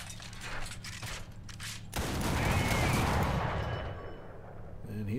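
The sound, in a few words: ZUT-37 anti-aircraft gun firing in the video game War Thunder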